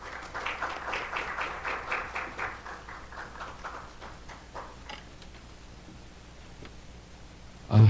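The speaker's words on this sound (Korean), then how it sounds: "역시 큰 박수로 맞이하여 주시기 바랍니다" Applause greets a speaker at a Korean landscape society conference, a moderate clatter of clapping from an audience that fades to quiet after a few seconds, then a single soft thump at the end.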